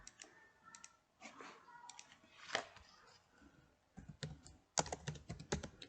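Keys clatter on a computer keyboard as a filename is entered, in quick irregular bursts of clicks, close but quiet, with short pauses between runs of typing and no talking.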